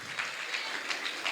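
Audience applauding at the DonBoscoShow 2025 stage event, a dense even wash of clapping from a crowd that holds steady throughout with no voices on top.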